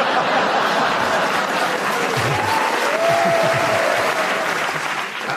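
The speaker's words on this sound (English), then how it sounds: "you got your applause for that extra point that you got" Sustained applause from a studio audience on the radio panel show Just A Minute, steady clapping throughout with a little laughter mixed in.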